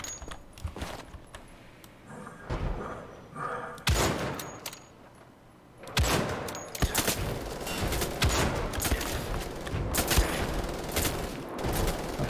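Enemy gunfire in Wolfenstein: The Old Blood, at a street market: sharp bursts of rapid shots come in clusters with brief lulls between them, loud and close, then grow into an almost continuous volley.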